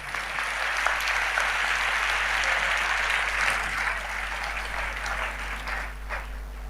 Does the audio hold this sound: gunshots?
no